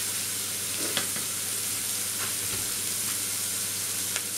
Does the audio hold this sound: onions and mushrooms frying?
yes